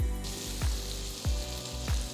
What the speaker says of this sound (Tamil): அகலமான கடாயில் 2 துண்டு வெண்ணெய்,